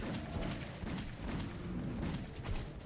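Gunfire rattles in the Metro video game in rapid, continuous bursts that sound muffled and fairly quiet, running without pause for about three seconds with no speech over it.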